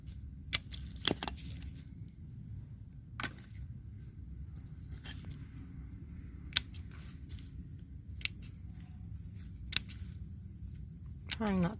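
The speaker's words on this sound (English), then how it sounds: "So you just follow the stem all the way down and chop it up like that." Evening primrose stems being cut while deadheading at the end of summer, sharp scissor snips repeating irregularly, a dozen or so close clicks over a low outdoor rumble, with quiet speech in the background.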